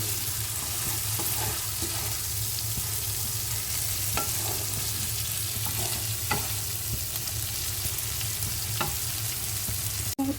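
Potatoes tossed with spices in a hot pan for a koi fish and cauliflower curry, a loud continuous sizzle under scattered light spoon scrapes and taps, ending with a sharp knock.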